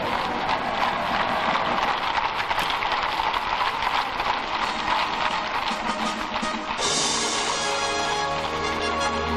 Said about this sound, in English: Escorted by the household cavalry, the Queen and Duke rode in the Irish coach from Buckingham Palace.